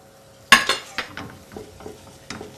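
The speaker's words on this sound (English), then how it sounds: "Sprinkle that in, stirring continuously." Flour sprinkled into foaming melted butter and stirred into a roux, with a sharp utensil scrape against the pan followed by a series of softer, fading scrapes and light taps, close and alone without talk.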